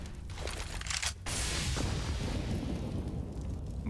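A grenade goes off during a Counter-Strike match: a sudden loud crack and boom, then a sustained rumbling roar of gunfire and noise that continues at full strength.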